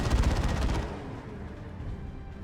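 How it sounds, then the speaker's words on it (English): Rapid burst from an assault cannon in Dawn of War 2, a fast mechanical stream of loud shots lasting under a second, then a rumbling battle tail. "Those autocannons do not fool around. Assault cannon, I should say."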